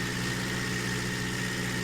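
A tractor engine in a farming game runs at a steady idle, a low continuous rumble with even pulsing and no other sound over it.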